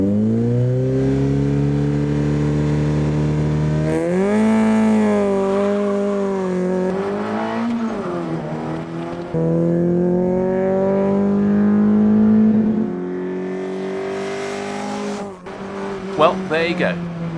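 A standard 1.4 litre Rover K-Series Mini Clubman races on a track, its engine loud and close, revving up and down through gear changes with rising and falling pitch, and faint tire squeal near the end.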